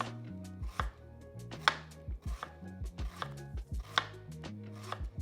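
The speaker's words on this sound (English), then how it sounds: "we're going to cut our onion like this" An onion being cut with a knife on a board, roughly a dozen crisp separate knife strikes in an uneven rhythm, close and fairly quiet, with no talking.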